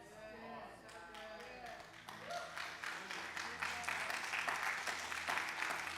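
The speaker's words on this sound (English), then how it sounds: "I'm happy y'all clapped" A church congregation claps together during a service, a dense, sustained patter of many hands that swells and grows louder after the first couple of seconds, with faint voices mixed in.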